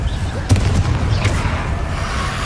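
Incendio fire spell cast in the Hogwarts Legacy video game, a loud rumbling burst with crackling booming impacts over a dense low roar that holds through the whole stretch.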